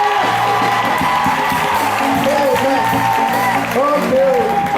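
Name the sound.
congregation cheering and applauding the pastor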